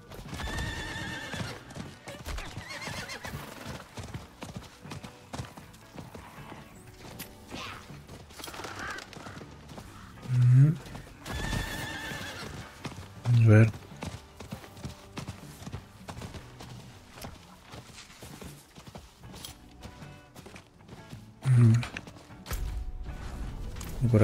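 Horse in the video game Diablo 4 trotting with steady clip-clop hoofbeats, letting out several loud neighs at intervals over low game ambience.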